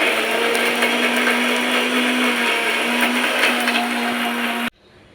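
A mixer grinder whirs loudly and steadily while grinding ginger and garlic into a paste with water, then cuts off abruptly near the end, leaving quiet.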